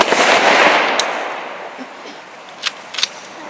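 A Memorial Day rifle volley salute fires as one loud, sharp crack that fades into a long outdoor echo, followed by a few fainter pops and clicks from the rifles afterward.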